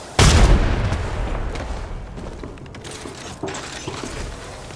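Apex Legends Mobile gameplay: a loud burst of gunfire and a boom at the start, then mechanical clicks and clacks of a weapon being reloaded, with another sharp click near the end.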